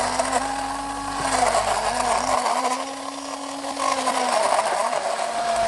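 A small portable cordless Deerma blender whirs continuously up close, its motor pitch wavering slightly as the contents churn, with no voices.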